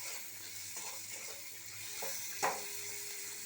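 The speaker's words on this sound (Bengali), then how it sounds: "কাঁচা পেঁয়াজটা একটু কাঁচা গন্ধটা চলে যাক, একটু ভাজা ভাজা হোক" Raw onions fry in a pan for a watermelon-rind bhorta, giving a faint, steady sizzle with a few soft stirring scrapes and one brief clack partway through.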